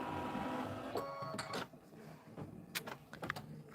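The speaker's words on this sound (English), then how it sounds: "I'm going to stitch it out." A home embroidery machine begins stitching a Kimberbell bunny boot and mushroom house design, a quiet steady mechanical whir followed by scattered clicks and light taps.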